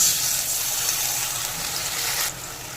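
Nigella seeds sizzle steadily in hot oil in a pan while cooking a hilsa fish curry, with a loud, even hiss throughout. Near the end the sizzle drops abruptly as a little water is added.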